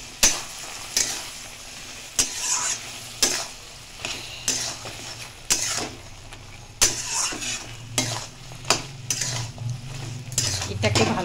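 Crab with figs stir-fried in a pan: repeated scraping strokes of a utensil against the pan come at a steady rhythm over a soft, continuous sizzle, close and fairly loud, with no talking.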